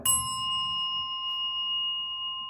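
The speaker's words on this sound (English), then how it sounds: "When Doshi bows in Gasho to the Buddhas and ancestors, one bell" A single bell struck once during a Zen service as the Doshi bows in gassho to the Buddhas and ancestors, giving a clear bright ding that rings on with a long, steady sustain in a quiet hall.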